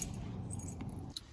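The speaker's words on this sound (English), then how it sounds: "Always remember, lock the doors. Take the keys with you" House keys jangle briefly after the doors are locked, a close, light metallic rattle that tails off into a soft clink.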